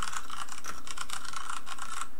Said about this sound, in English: You get this sort of clickety-clackety sound.